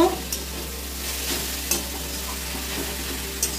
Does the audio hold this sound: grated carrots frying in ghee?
yes